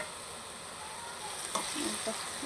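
Water spinach (kolmi shak) fries in a pan with a steady, close hiss of sizzling oil and a brief clack of stirring near the end.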